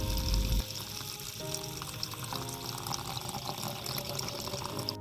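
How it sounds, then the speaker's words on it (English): Sliced green onions being washed in water, with a heavy splash of pouring at the start settling into a steady trickle of running water and faint drips, close and moderately quiet, no talking. "After slicing, wash it and drain the water afterwards."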